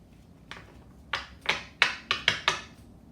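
A series of crisp riffling snaps, about six quick bursts picking up pace, as tarot cards are shuffled close by with no talking.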